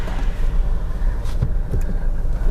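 A Nissan Navara NP300 pickup fitted with Tough Dog shocks drives along, its steady engine and road rumble close and continuous, with a few brief knocks from the suspension and no talking.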